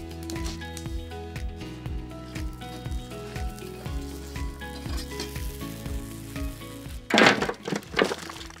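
Whole spices and poppy seeds dry-roasting in a pan for a chicken curry, giving a soft, steady sizzle with light stirring scrapes under loud tonal background music, and a brief louder clatter near the end.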